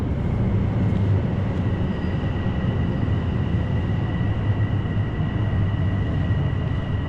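A train rumbles through Lynbrook rail station in New York, a steady, loud, continuous roar of wheels and cars with a faint high whine, no voices.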